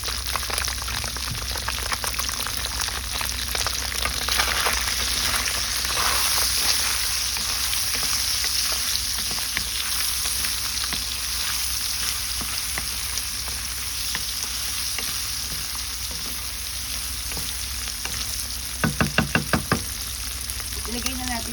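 Onion and garlic sauté in a hot pan with a steady, close sizzle throughout, broken by light stirring scrapes and a brief burst of clatter near the end.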